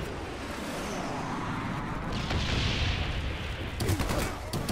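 Gunfire in Call of Duty: Black Ops multiplayer, a dense, continuous wash of rapid shots and rumbling battle noise, with a few sharper bursts near the end and no talking.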